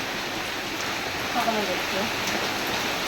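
Steady rain pours down on a wet morning in a flood-prone village, a dense even hiss without pause and a faint voice briefly beneath it.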